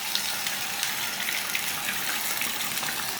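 Liver sizzles in hot oil in a frying pan, a loud, dense, continuous crackling hiss that holds steady throughout without any talking.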